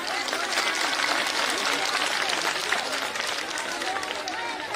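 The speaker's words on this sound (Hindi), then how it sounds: "ताली बजा लीजिए अपनी।" Rally crowd clapping hard and continuously, a thick, close wall of applause with scattered voices and shouts mixed through it.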